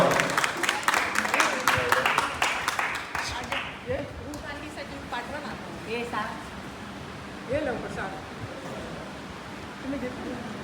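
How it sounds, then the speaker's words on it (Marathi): A church congregation at a Nurses' Sunday service claps in a burst of close applause that fades after a few seconds, after which scattered voices murmur and talk. "तुम्ही सगळ्यांना टाळ्या वाजवा."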